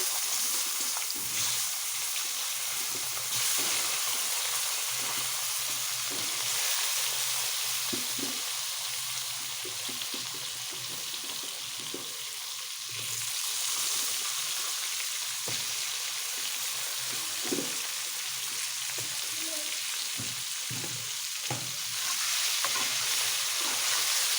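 Sliced eggplant fries in oil in a pan with a loud, continuous hiss and crackle, broken by scattered stirring scrapes and small bubbling pops, close up and without talk.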